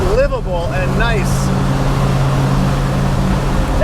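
Steady low engine drone and road rumble from a Chevy Squarebody pickup with a new Flowmaster American dual exhaust cruising on the highway around 65 mph at 2,700 RPM, with a voice speaking briefly at the start.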